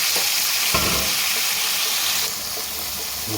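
Boiled ivy gourd pieces fry in hot oil in a pan with a loud, steady sizzle and intermittent stirring scrapes, close and without speech.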